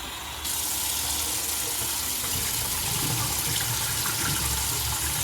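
Tap water pours steadily while bitter gourd peel pieces are washed in a strainer, a loud, close, continuous gush that starts abruptly and runs with no talk.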